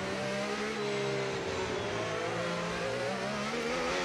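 A Formula 1 race car sweeps through the final chicane at the Bus Stop corner of a Belgian circuit, its high engine note steady and continuous with shifting pitch as it brakes and powers out, fairly loud and unbroken.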